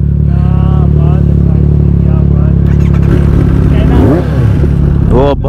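A Kawasaki ZX10R sport motorcycle in Thailand idles with a loud, close, steady engine rumble, then revs sharply in rising bursts, while people talk over it.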